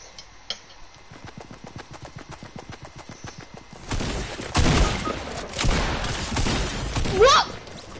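Gunfire from the Fortnite video game, a steady run of rapid clicking shots followed by louder, denser bursts of shooting and impacts in the second half.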